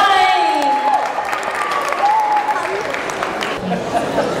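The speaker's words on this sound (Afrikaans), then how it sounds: "hartelijke, warme klapje voor Sjouwaan" Warm applause from an audience welcoming a speaker, dense continuous clapping throughout with cheers and some chatter mixed in, fairly loud and close.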